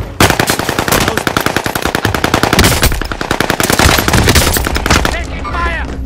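Rapid automatic gunfire in a first-person shooter game rattles loud and close in long, dense bursts, ending in a brief lull with a faint in-game voice at the end.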